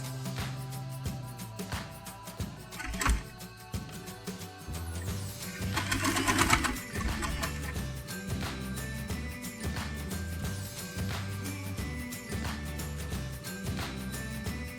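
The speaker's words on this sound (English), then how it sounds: "I'll stitch these parts." Sewing machine stitching fur cat ear headband parts, a fairly quiet, steady mechanical whir with rapid needle ticking, pausing and restarting briefly, with some handling noise mixed in.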